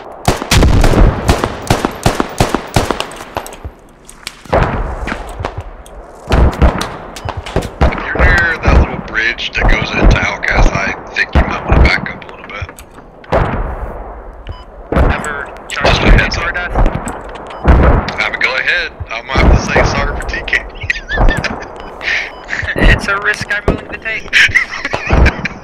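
Artillery shells pound a position called Outcast in the military shooter game Squad, with heavy booming blasts landing in loud, irregular bursts. Gunfire rattles through between the impacts, and players talk over it.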